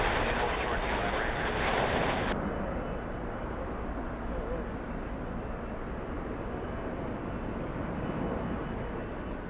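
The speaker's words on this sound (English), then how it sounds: "the A350 flying back to Istanbul." A Turkish Airlines Airbus A350 at Los Angeles International Airport produces a loud, steady jet engine roar with broad wind-like noise that holds continuously, slightly brighter at the start and then evening out.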